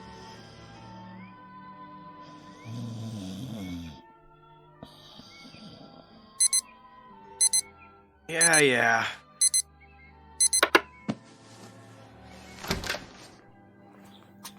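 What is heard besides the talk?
snooze alarm clock ringing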